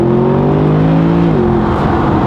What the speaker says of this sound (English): This is the best sounding car with a factory exhaust I've ever driven.